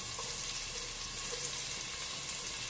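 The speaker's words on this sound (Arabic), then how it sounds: "I add the chopped onion" Chopped onion goes into a hot pan for risotto and sizzles with a steady, hissing crackle throughout, fairly loud and continuous with no voices.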